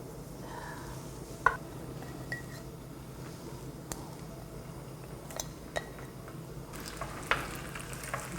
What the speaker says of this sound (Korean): 떡을 기름에 한번 볶아 보도록 하겠습니다